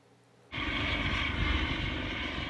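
A search-and-rescue helicopter flying over the English Channel off the French coast comes in suddenly as a loud, steady rotor and engine roar that holds at constant strength, with no talking.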